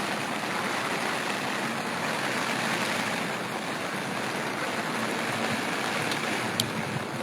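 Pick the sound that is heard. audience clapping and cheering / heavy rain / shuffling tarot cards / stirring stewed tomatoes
heavy rain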